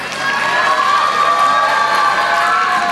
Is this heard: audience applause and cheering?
yes